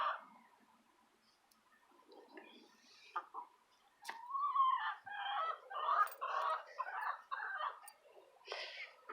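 Several backyard garden chickens in Utah clucking and squawking up close, a series of uneven calls growing busier and louder after a quiet start.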